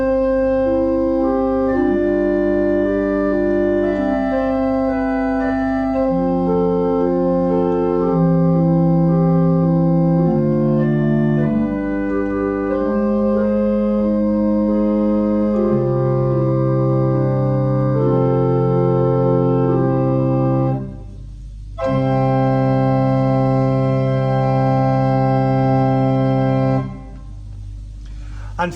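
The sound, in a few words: pipe organ playing Lieblich Gedakt stop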